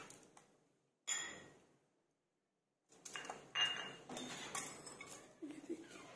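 Metal baking grill rack and dishes clatter and clink in a home kitchen while fish is set up for oven grilling, with a sharp burst, a pause, then a run of close handling knocks and scrapes.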